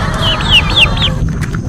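A farmyard chicken pecking rice gives a quick run of four short, close clucks over a steady outdoor background rumble.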